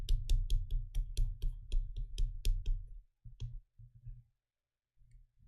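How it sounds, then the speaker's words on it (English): Rapid clicking of a pen on a drawing tablet screen, a quick regular burst of sharp close taps followed by a few sparse, quieter clicks and brief pauses. "So I'm clicking to move my screen and to draw."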